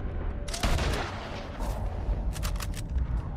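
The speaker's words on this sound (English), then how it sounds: "I'm being sniped." Sniper gunfire in a video game: a sharp single crack, then another about a second later, followed by a quick cluster of shots, all fairly faint against low background rumble.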